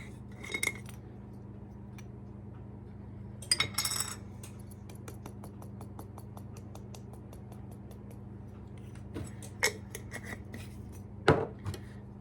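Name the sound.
stirring cinnamon into a bowl of sugar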